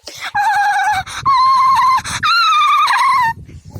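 A dog gives three drawn-out, high whining yelps in quick succession, loud and close, with brief breaks between them.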